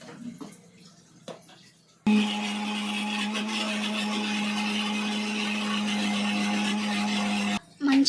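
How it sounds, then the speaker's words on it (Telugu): A mixer grinder blends hibiscus leaves into a paste, starting abruptly after a quiet opening and running as a loud, steady whirring drone for about five seconds before cutting off. "ఇప్పుడు దీన్ని మిక్సీ పట్టేసుకుందాం"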